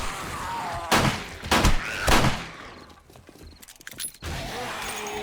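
Pistol gunfire in the 7 Days To Die video game during a horde night at a base, three sharp shots spaced about a second apart, then mechanical clatter and another loud crack, all against a steady background din.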